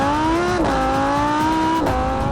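A 2016 Lamborghini Huracán LP 580-2 engine pulls hard under acceleration, its loud steady howl climbing in pitch through two quick upshifts with brief dips between gears, close and continuous with no talking.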